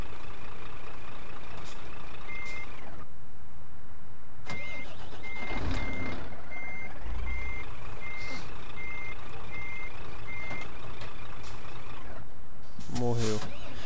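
A truck in Euro Truck Simulator 2 sounds evenly spaced reversing beeps over a rumbling engine, with a short hiss of air brakes near the end, while someone talks intermittently.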